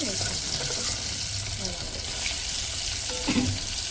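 Eggplant pieces fry in oil with turmeric, a loud, steady close sizzle with occasional stirring scrapes throughout.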